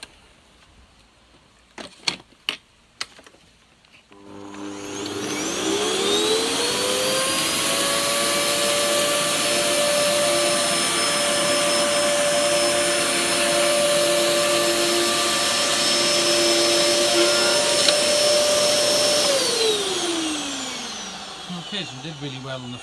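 Hoover Dust Manager DM6228 cyclonic vacuum cleaner sucking up sawdust from a floor: a few clicks, then the motor spins up to a loud steady whine with a strong airflow roar for about fifteen seconds before winding down.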